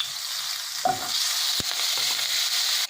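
Butter melting in hot oil in a pan for pav bhaji sizzles with a steady, fairly loud frying hiss, broken by a brief stirring scrape and a sharp clink.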